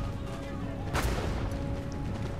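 Musket volley in Empire Total War at the Battle of Bunker Hill during the Revolutionary War: one sharp crackling burst of gunfire over a low, steady battlefield rumble.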